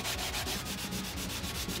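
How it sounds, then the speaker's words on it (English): Steady back-and-forth sanding across a wooden dresser surface, a continuous close abrasive rubbing with a regular stroke rhythm, no voices. "I guess I'll just go back to sanding again."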